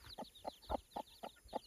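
Six short, evenly spaced clucking calls from chicks or small fowl, close by and fairly loud, with a faint steady hum underneath.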